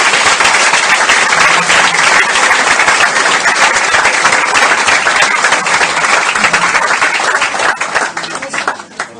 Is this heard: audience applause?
yes